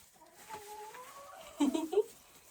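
Chickens cluck close by in short bursts, including a rising drawn-out call and a couple of louder clucks near the end, with a faint voice in the background.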